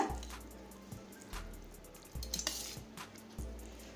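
Tamarind paste being stirred into cooked rice for puli sadam, a spoon scraping and squishing through the grains in several separate strokes close by, with faint clinks against the vessel and no voices.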